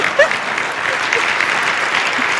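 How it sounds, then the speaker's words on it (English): An audience gives a round of applause at a talk or presentation, a dense, steady clapping from a roomful of people that stays loud and even throughout, with a faint voice briefly audible near the start. "We're just going to give you a round of applause and not screw that up."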